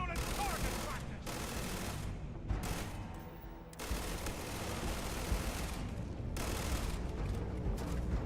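Video game gunfire crackles in rapid, dense bursts through the clip, loud and continuous, with brief lulls between volleys.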